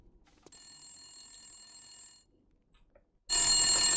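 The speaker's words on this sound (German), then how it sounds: "Geh ans Telefon." A telephone rings in the video game The Long Dark: one long, shrill ring, then a quiet pause, and the ring bursts back in much louder.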